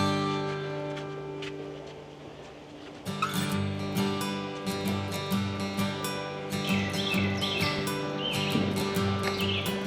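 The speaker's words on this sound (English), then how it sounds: "we just had a couple of red-shouldered hawks cruise right over us." A couple of red-shouldered hawks calling as they fly over a wild river during a paddling trip, repeated sharp chirping cries overhead, fairly clear over steady background music and outdoor ambience.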